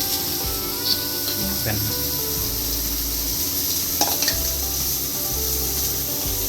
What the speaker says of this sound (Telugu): Onions and cashews 2 వేసేసా. సో కొంచెం బటర్ ఇది